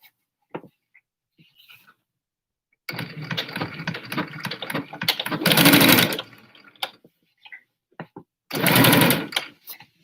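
A regular home sewing machine stitches the sides of a Batwing-pattern fabric face mask: short stop-start runs of close, whirring stitching, then two loud, fast bursts separated by quiet pauses.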